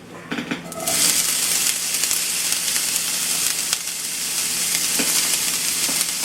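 Hash brown ingredients sizzle and fry loudly in a cast iron pan, a dense continuous crackle with occasional scrapes from a small metal spatula, no talking over it.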